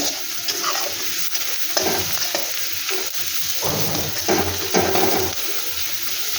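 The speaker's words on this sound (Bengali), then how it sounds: "পেঁয়াজটা হালকা হালকা করে হচ্ছে ভাজা" Onions frying steadily in a pan over lowered heat, a continuous soft sizzle with occasional stirring scrapes, close and moderately loud, no voices.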